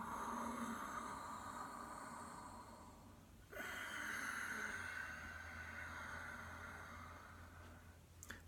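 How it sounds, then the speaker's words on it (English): Soft, steady ujjayi yogic breath, a sighing, whistling airflow through a narrowed throat with the mouth shut, drawn in long, quiet, continuous strokes with one brief break partway through. "narrow the esophagus and make a sighing, whistling, silky sound called ujjayi breath in Sanskrit"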